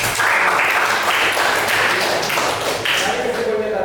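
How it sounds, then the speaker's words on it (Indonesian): Applause from a classroom audience during a teaching performance assessment in Denpasar, a steady wash of clapping lasting several seconds at an even level, with voices mixed in. "tepuk tangan untuk kita"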